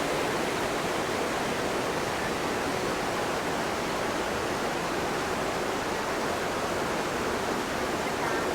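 Mae Klang waterfall in Chiang Mai, swollen after heavy wet-season rain, gives a steady, loud, broadband roar of rushing water with no pauses.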